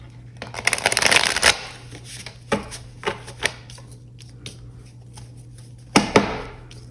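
Tarot cards are shuffled close by: a quick riffling burst, then several separate slaps and flicks spaced out over a few seconds, with a faint low hum underneath.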